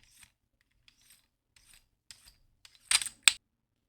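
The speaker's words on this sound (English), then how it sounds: "we'll unscrew this guy right here" Part of a Neopixel lightsaber hilt is unscrewed up close, with faint, sparse metallic thread scrapes that build to two sharper, louder clicks at the end in an otherwise quiet room.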